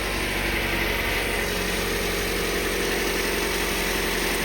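A car engine that may have a cracked block idles steadily and closely, a continuous even drone with constant vibration and no pauses.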